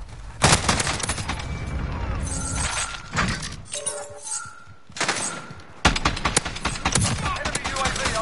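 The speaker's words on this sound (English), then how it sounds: "look, I'm shooting this gun" Loud automatic gunfire from Call of Duty: Warzone fires in rapid bursts with short pauses, mixed with sharp impact and shattering sounds, close and dominant.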